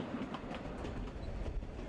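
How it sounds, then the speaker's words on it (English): A Denver & Rio Grande Western narrow gauge train rolls along beside the Animas River out of Durango, a steady, faint rumble of wheels and cars with no voices. "Leaving Durango, the train runs alongside the Animas River"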